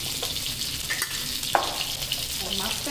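Rui fish frying in a pan gives a continuous moderate sizzle and crackle, with a few faint clinks of utensils against the pan.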